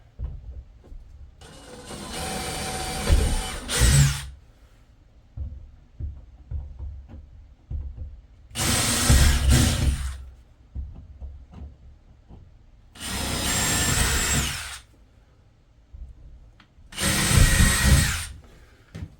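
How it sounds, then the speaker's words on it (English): Loud power drill bursts drilling corner holes for a shed window, four separate runs of a few seconds each, with quieter handling noises and knocks in between. "we're going to drill in each corner"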